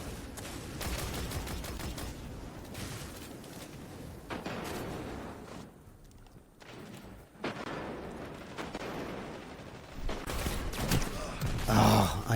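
Shotgun fire and other weapon blasts in a Destiny 2 Crucible match, a busy stream of loud booming shots with a brief lull midway and a heavy burst near the end.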